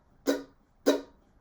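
Chop strums on a guitar played with a loosely held pick and no wind-up, three short, damped percussive hits spaced about half a second apart, close and isolated.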